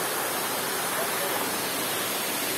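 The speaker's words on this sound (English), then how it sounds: "these water flows constantly" Fresh water flows constantly near Ladrilleros, Colombia, a dense, even rushing hiss close by that holds steady throughout with no other sounds.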